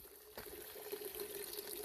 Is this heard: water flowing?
yes